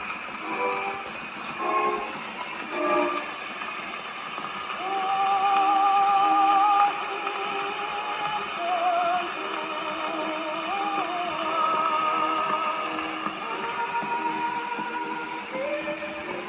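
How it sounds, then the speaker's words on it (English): An HMV Melba gramophone plays a worn early opera record, with a singing voice and accompaniment under steady surface hiss and crackle, continuous and moderately loud throughout. "Now, this isn't the best record. It's an early record. It's probably quite worn."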